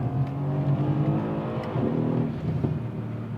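A 580 bhp Mercedes C63S AMG accelerates hard, its engine giving a steady, deep rumble with a brief rise in pitch, heard from inside the car.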